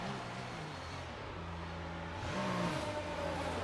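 Formula One car engine in the F1 2019 racing video game, a steady droning whine that climbs in pitch and swells louder toward the end, with no voices.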